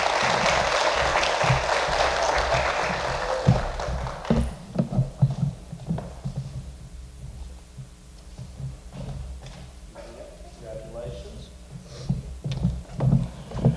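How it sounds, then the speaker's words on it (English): Audience applause at an award ceremony, a dense steady wash of clapping for about four seconds that breaks into scattered claps and fades, leaving soft room noise with a few stray claps. "This is the part where you guys clap."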